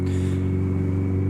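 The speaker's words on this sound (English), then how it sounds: "It is kitted out with a laser exhaust system, which you might hear, which I think sounds absolutely insane." A motorcycle fitted with a Laser aftermarket exhaust gives out a loud, steady, close engine drone with a deep rumble throughout, without clear rises in pitch.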